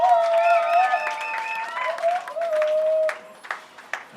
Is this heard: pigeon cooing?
no